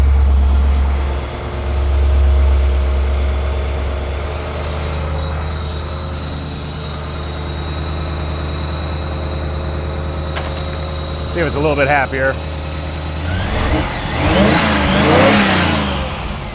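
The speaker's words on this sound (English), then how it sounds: "The exhaust, I'm just realizing how good it sounds." A 1955 Buick V8 idles with a low, steady exhaust burble, then revs in a couple of short bursts and a longer rising rev near the end, close and loud, with someone talking briefly over the idle.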